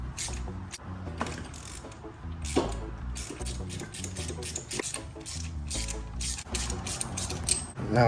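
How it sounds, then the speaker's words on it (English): Ratchet wrench clicking steadily while removing spark plugs from the engine of a 1987 pickup during a tune-up, a close, continuous run of rapid metallic pawl ticks with a few louder clanks. "pop the rest of these plugs out"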